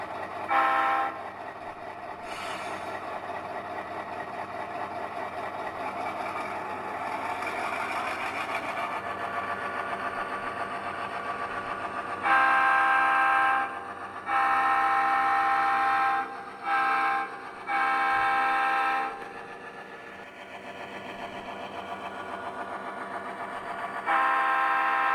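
A GP7u model locomotive runs steadily through a switching session on a layout, its continuous motor hum and wheel rumble holding a level loudness with a few brief dropouts and surges near the middle.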